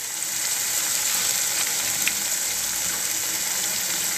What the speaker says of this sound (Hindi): ये हल्का ब्राउन हो चुका है और अब इसमें हम लहसुन डाल देंगे।